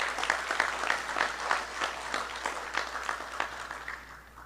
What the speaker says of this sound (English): So I think you should give yourselves a round of applause.